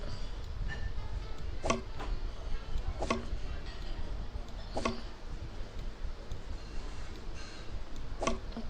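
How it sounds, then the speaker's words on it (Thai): Sharp knife chops on a potato in the Toca Kitchen cooking game come as about six crisp, separate clicks spaced irregularly over a quiet background hum. "มันต้องหั่นแบบนี้ฮะ"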